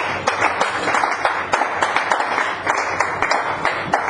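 A church congregation claps loudly and continuously in praise, the many hands blending into a dense, rhythmic wash with regular pulsing beats, close and full for the whole stretch.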